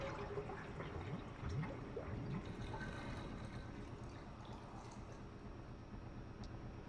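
Dirty water gurgles and drains from a bathtub after the plug is pulled in the Resident Evil remake, a steady, fairly loud watery rush with bubbling that continues throughout.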